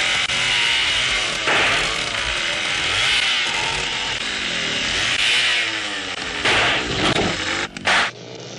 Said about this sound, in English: What's that sound? It sounds like a car.